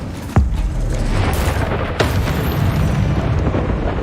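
Incendio fire spell cast in Hogwarts Legacy: a loud, sudden whoosh and burst rises from a constant roaring bed of noise, followed by a second, softer flare about a second and a half later.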